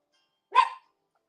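A pet dog gives one loud, short bark close by indoors, with silence before and after it.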